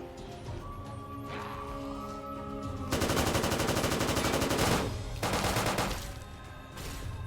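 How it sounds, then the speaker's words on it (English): Minigun firing in the game Fallout: Nuclear Sunset, a dense continuous buzzing rattle of rapid shots in long sustained bursts, with a brief pause between runs and a quieter mechanical hum before the first burst. "Holy, that's a minigun."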